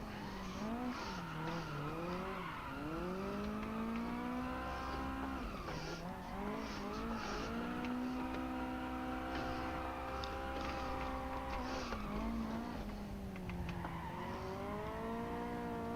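A video game car drifting, its tires squealing in long wavering pitched screeches that rise and fall across the whole stretch over a steady engine drone, loud and close with no talking.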